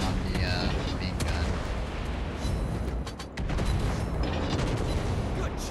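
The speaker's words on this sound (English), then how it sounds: "So I use my secondaries and my main guns." Warship secondary and main guns firing in a naval video game, the German Tier VIII Schill, a steady dense barrage of booms and rattling shots that runs for the whole stretch, briefly dipping midway, with a speaking voice under it.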